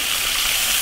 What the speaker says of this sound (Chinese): 加点水。